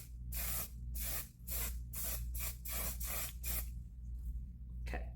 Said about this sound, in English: we're just gonna spray this across